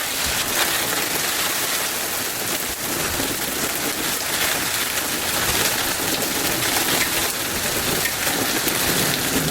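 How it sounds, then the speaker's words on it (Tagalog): Heavy rain mixed with hail pounds steadily on surfaces, a dense, loud, unbroken hiss and patter that stays constant from start to finish with no voices. "Lakas ng ulan, may hailstorm."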